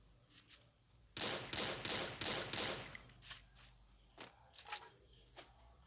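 Gunfire in a shooter video game, likely an M14, comes as a rapid burst of shots lasting under two seconds, followed by a few scattered single and paired shots, fairly quiet overall.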